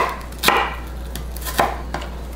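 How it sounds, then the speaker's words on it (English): A knife chops a shallot thinly on a cutting board, giving four crisp strikes at uneven intervals, the first and third loudest, over a low steady hum, with no speech. "Then the shallot is an 1/8 inch cut. So what you'll do is, just like an onion, nice and thin"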